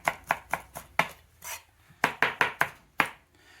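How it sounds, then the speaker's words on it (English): Knife chopping fresh cilantro on a cutting board for salsa: a quick run of sharp, close chops, a short pause, then another burst of evenly spaced cuts, with no talking. "so let's get that diced up"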